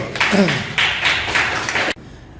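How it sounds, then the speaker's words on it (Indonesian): Applause in an Indonesian school classroom during a teacher's practice lesson: a burst of clapping from students that holds steady for about two seconds, with voices mixed in, and then stops abruptly. "Oke, tepuk tangan dulu."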